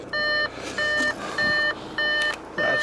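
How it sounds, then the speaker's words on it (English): Door-open warning chime in a manual Audi A4 S Line Avant TDI Black Edition: five evenly spaced electronic beeps, each about a third of a second long, repeating steadily and clearly inside the cabin with no talking. "Close the door, stop that beeping with a bit of luck."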